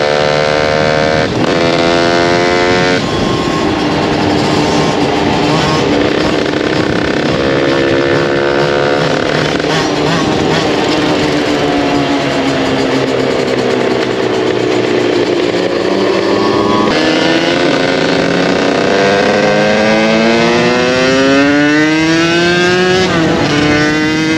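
Two 50cc motorcycles ride along with a constant loud buzzing engine whine that rises and falls repeatedly as they accelerate and shift, close to the microphone with no talk.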